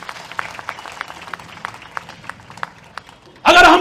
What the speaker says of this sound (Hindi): एक बार जोरदार तालियां तो बनती हैं।